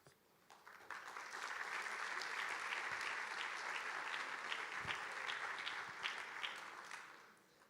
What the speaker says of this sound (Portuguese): obrigada por terem batido palmas